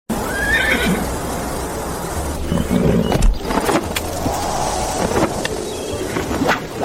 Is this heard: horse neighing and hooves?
yes